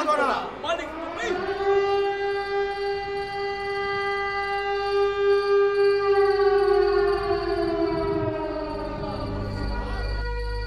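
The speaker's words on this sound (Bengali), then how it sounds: "এই সাইরেন পড়লো" A long wailing siren, rising to a sustained steady tone and slowly falling away over about ten seconds, loud and clear, with a voice briefly heard beneath it near the end.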